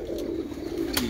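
Red-eyed Sialkoti pigeons coo softly in a low, steady murmur, with a couple of brief sharper bird sounds breaking through, no speech.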